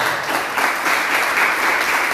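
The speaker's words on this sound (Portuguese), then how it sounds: "Vamos aplaudir o Senhor Jesus, irmãos." A Brazilian church congregation breaks into brief, dense applause during worship, a steady wash of many hands clapping with no voices above it.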